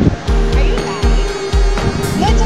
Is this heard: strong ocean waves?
yes